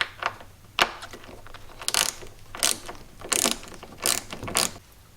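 Ratchet wrench loosening the hardtop bolts on a Jeep, a series of short clicking ratchet bursts in an uneven rhythm, close and crisp against a quiet room.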